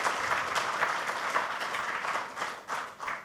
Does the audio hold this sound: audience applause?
yes